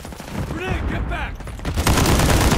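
Rapid gunfire in a video game, a dense continuous fusillade that grows louder toward the end, mixed with shouted voices and game noise.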